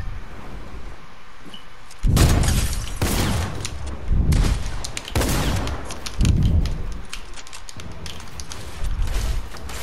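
Desert Eagle pistol shots in Fortnite, a series of loud, sharp booming blasts spaced a second or two apart, some close together in quick pairs, over steady game background noise with no talking.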